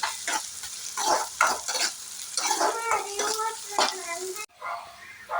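Gongura greens sautéing in a pan, a close, uneven sizzle and stirring scrape with a voice talking over it, the sound briefly cutting out near the end.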